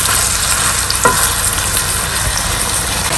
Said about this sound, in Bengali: আমি ভালোভাবে চিকেন গুলো কষতে থাকবো